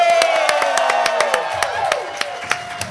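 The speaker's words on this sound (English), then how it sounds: "Can you guys clap a little louder for her?" A studio audience claps and whoops loudly and close by, sharp individual claps sounding through excited cheering and yells that slowly fade toward the end.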